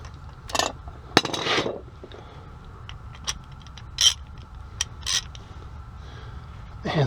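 Wheel coming off a Ford F150 with a ratchet outdoors in the cold: scattered ratcheting clicks, clanks and metallic rattles in irregular bursts, with quiet gaps between them.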